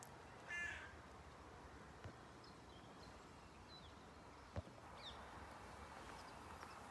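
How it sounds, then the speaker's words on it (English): Crows caw a few times from a distance over a steady background rumble of a car moving along wet ground, the calls brief and faint against the constant noise. "The birds are trying to outrun the car there."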